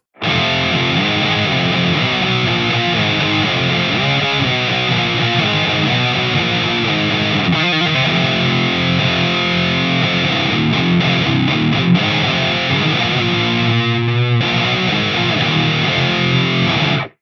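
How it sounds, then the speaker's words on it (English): Heavily distorted metal electric guitar played through the Audio Assault Emperor two-channel amp plugin, a dense, continuous doom-style tone at steady loudness with no voices. "I'm evaluating a VST plugin that aims to be your one-stop shop for everything from Sabbath to sludge metal tones with the Emperor"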